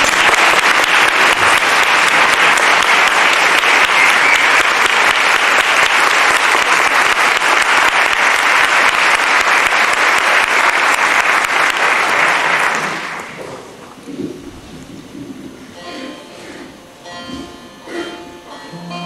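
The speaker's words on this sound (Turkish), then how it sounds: "Alkışlarımız Savaş Eren için" An audience claps loudly and steadily for a folk singer's türkü performance for about thirteen seconds, then the applause fades out into quieter room sound.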